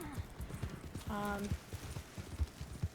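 Horse hooves clip-clop steadily in Red Dead Redemption 2, a fast, even trot close up, with a brief whinny and someone talking over it.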